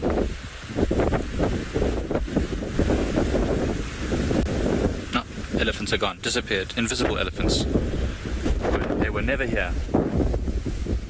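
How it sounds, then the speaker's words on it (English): Strong gusts buffet the microphone at sunset on a safari drive at Tswalu, a loud, continuous rumbling roar that surges and drops while a person keeps talking over it. "It's so windy, it's unbelievable."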